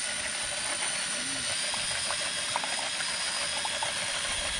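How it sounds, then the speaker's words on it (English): A steady mechanical whir runs continuously with a faint rhythmic clicking as a power drill spins a whisk through eggs and milk, close and even in volume. "Power tools and a whisk."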